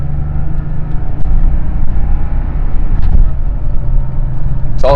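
A Porsche 911 driving and shifting gears, a loud steady low engine rumble heard from inside the car with slight changes in pitch and a faint sharp click near the end.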